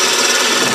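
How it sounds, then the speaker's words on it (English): A bowl gouge cuts wood on a spinning lathe while a spin top is being turned, a brief, dense, continuous scraping rasp, close and fairly loud, with no voices. "you always go downhill with your bowl gouge"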